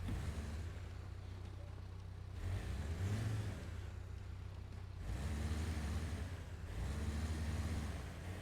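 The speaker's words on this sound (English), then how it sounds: "My engine's still running." The engine of a vehicle in a video game about an expedition to uncover a dinosaur runs at a steady low drone. It swells a few times as if revving, and no voices are heard.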